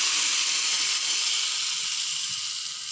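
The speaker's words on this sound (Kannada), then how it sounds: "ಈ ಒಗ್ಗರಣೆಗೆ ಎಳ್ಳು ಚಟ್ನಿ ಹಾಕ್ತಾಯಿದ್ದೇನೆ" Sesame chutney goes into a hot tempering of urad dal, mustard seeds and cumin for a Sirsi-style cucumber peel chutney, giving a steady, bright hiss that fades slightly over a few seconds, with no talk.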